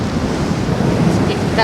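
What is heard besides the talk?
sea waves breaking on the shore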